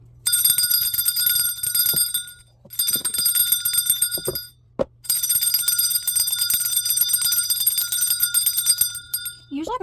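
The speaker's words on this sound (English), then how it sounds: "so I'm just going to use my bell" A small bell rings three sustained times up close to open a tarot reading, each shimmering ring fading before the next, with a voice speaking in the gaps.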